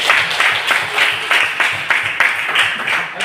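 Students in an Islamic religious education class clap in a loud, rhythmic unison pattern, with sharp regular bursts of hands striking together repeated several times.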